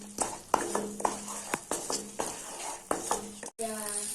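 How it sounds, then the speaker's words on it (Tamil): Masala paste for a paneer gravy sautés in oil in a pan over full heat, sizzling steadily beneath rhythmic scrapes and knocks of a spoon stirring. "இப்ப நம்ம ஸ்டவ் ஃபுல்லா வச்சுட்டு எண்ணெய் வர்ற வரைக்கும் வதக்கிக்கலாம்"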